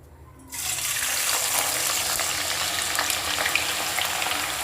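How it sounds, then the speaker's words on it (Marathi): Onions dropped into about a quarter litre of hot oil for chicken biryani, a sudden loud sizzle that bursts in after a quiet moment and holds as a steady, close crackling hiss. "तर आपल्याला आता कांदा फ्राय करून घेऊया"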